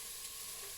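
Steady, faint sizzle of beef browning in a hot pan with shallots, a continuous hiss with no talking.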